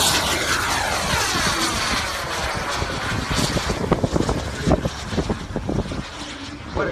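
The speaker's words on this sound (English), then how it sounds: "What a great aircraft." Havoc warbird aircraft passing overhead at Pearl Harbor during a Warbirds West event, a loud, broad engine roar that swells and stays close throughout, with fluttering, gusty texture in the later seconds.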